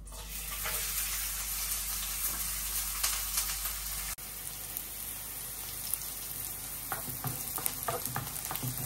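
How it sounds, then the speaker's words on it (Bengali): Chopped onions frying in hot oil in a pan, a steady close sizzle with scattered crackles and stirring clinks throughout, briefly dipping partway through. "এই যে এখন পেঁয়াজটা ভাজা হয়ে গেছে।"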